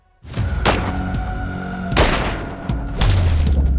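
Three loud gunshots from a handgun firing Hornady Critical Duty hollow point rounds into thick clothing, spaced roughly a second apart, each a sharp close crack followed by a booming echoing tail.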